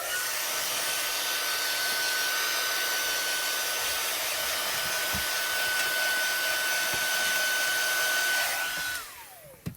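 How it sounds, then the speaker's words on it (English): Craft heat tool drying stamped ink on a rubber-stamped sea life image, a steady, loud blowing whine held for several seconds before switching off and winding down. "We're going to take the heat tool and dry him off real quick."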